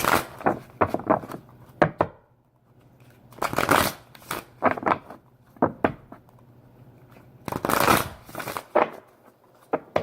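Tarot cards being shuffled in several bursts of riffling and tapping, close and clear, with short pauses between rounds and no talking.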